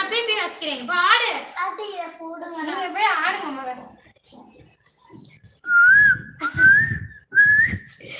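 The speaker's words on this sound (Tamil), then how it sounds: "என்ன உங்களோட பிபில இருந்து விசில் சவுண்டு தான் வருது" Clear, tuneful human whistling in three rising phrases follows a stretch of lively talk and singing during a light-hearted Tamil entertainment segment.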